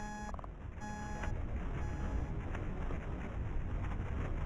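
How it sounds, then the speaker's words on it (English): A video game alarm clock gives a few quick electronic beeps at the start, then falls back under a steady rushing noise bed with faint repeating high tones, with no talking. "And my alarm clock."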